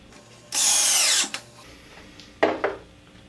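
A power drill with a Phillips bit drives a drywall screw into wood, giving one loud sustained whir of about a second, then two short quick bursts as the screw is seated.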